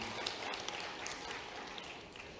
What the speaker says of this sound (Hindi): जरा जोरदार तालियां बजाकर स्वागत करें